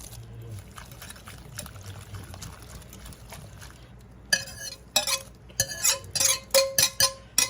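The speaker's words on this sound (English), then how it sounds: "you're going to want to whisk this though as you do it" Egg mixture for egg foo yong being whisked in a bowl: after a few quiet seconds of low background hum, a run of quick, close, rhythmic clinking strokes takes over and grows louder, with no talking.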